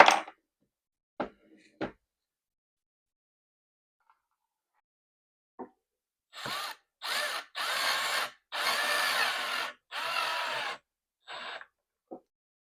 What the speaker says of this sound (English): All right, we got the next 2 screws, the ones that are in the front here, started.